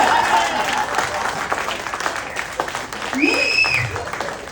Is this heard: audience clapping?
yes